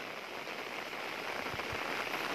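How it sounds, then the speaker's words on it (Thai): Steady rain pours down on a farm garden in Thailand, a dense, even hiss of drops hitting surfaces close by, with a couple of faint low thumps partway through and no talking. "บรรยากาศฝนตกเอามาฝากพี่น้องได้เบิ่งกันครับผม"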